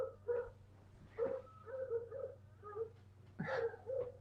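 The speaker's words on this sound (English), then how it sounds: "some dogs in a car were barking at the dogs that live next door to me" Several dogs bark and yelp at one another next door, with sharp, uneven barks coming in quick clusters at moderate distance over a low steady hum.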